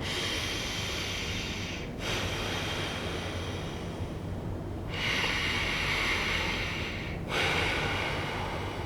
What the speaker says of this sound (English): That's alternate nostril breathing, and that is supposed to align your body.